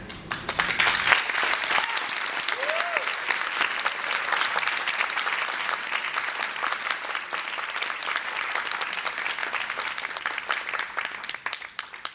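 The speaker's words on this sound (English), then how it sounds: "I applaud you." Audience applause at an award ceremony, a dense sustained burst of many hands clapping that carries on strongly for about ten seconds before tapering off, with a few faint voices under it.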